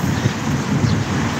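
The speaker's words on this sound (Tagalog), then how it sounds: "Ayan, malakas ang hangin guys." Strong outdoor wind blows steadily and loudly into the microphone beneath swaying trees and dark clouds, a continuous rushing roar with no voices.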